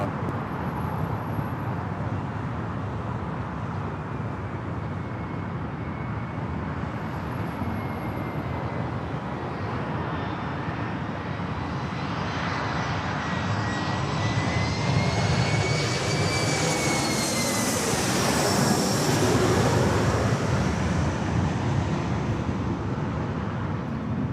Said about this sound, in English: Another E-Jet, short final for 24 right.